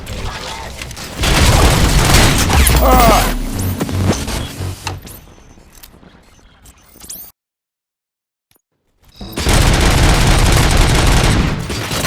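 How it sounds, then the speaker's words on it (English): Gunfire in the video game RoboCop Rogue City, loud sustained bursts of shots with mechanical clatter and booms, easing off into quieter rattles, a pause of near silence, then another heavy barrage. "Gunshots? What's going on?"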